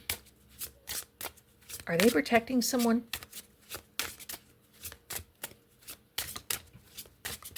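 Rapid riffling card shuffles crackle in repeated bursts, with a person briefly speaking midway through.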